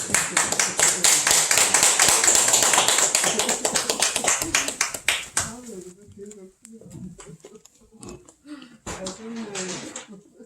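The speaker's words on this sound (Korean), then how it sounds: "힘찬 박수로 인사하고" A church congregation at a Thanksgiving Sunday worship service claps for about five seconds, a dense and lively patter of many hands, before it cuts off and a voice speaks over a quieter room.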